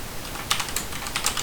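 Keys on a computer keyboard tapped while a password is entered, a short run of light, close clicks with a few sharper strokes, no voices.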